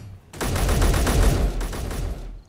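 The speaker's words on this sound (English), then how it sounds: "Whoa, gunfire!" A burst of rapid gunfire, several seconds of loud, dense shots with a brief pause, then a few more rounds.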